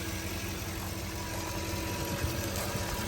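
Range Rover engine idling during a radiator pressure test for a leak, a steady low, fairly quiet drone with even vibration and no speech.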